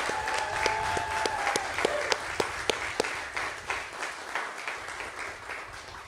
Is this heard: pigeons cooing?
no